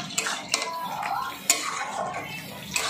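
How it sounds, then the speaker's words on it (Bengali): A spoon scrapes and stirs a papaya, banana-stem and prawn curry in a metal pan after ghee is added, with sharp utensil clinks against the pan over a soft wet sizzle. "ভালো করে মিশিয়ে নিচ্ছি"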